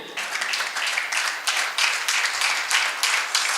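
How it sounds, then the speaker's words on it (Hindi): An audience applauds at a Hindi kavi sammelan poetry event at a book fair, close, lively clapping in uneven bursts that swells and dips over a few seconds. "एक बार जोरदार तालियां बजनी चाहिए अपनी ओर से"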